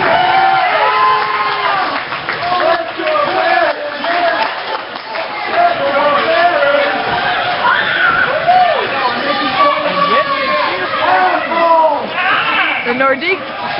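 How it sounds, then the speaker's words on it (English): Hockey crowd in a playoff arena, Barons versus Nordiques, roaring and whooping continuously with shouts and scattered screams, loud and dense, with people talking nearby. "Nordiques score, but their fans cheer for us."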